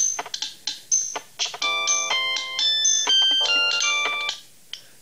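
An unusual phone ringtone plays as a bright electronic melody, starting with several short plinking notes and then moving into sustained, chiming tones that step up and down before ending with one last isolated note. No one speaks.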